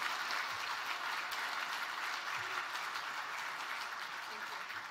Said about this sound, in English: All right, another round of applause for Monique and Leah,